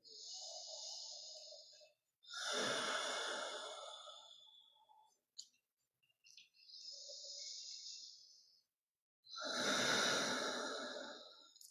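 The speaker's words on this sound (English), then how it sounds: "Let the breath move you." Slow, deep breathing during a chair yoga session: long airy inhales and exhales come in even cycles, close and quiet, with pauses between them.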